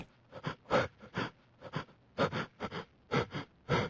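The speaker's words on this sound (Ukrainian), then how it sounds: "Що ти там дихаєш?" A creature in the horror game Pretend It's Not There breathes close in the listener's ear, about a dozen harsh, rhythmic snorting breaths in quick pairs, loud and near with no talk over them.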